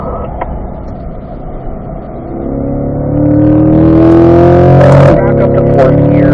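A C8 Corvette on a driving-school track accelerates hard, its engine note climbing steadily from a low drone into a loud, rising roar with a brief shift-like break near the end, heard from close up inside the car.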